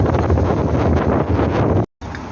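Steady, heavy wind buffets the microphone with a loud, rough rumble, then cuts out briefly before resuming.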